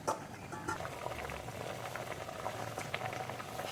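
A pot of egg curry bubbles and simmers steadily, with soft popping and gurgling from thick liquid close by, no voices.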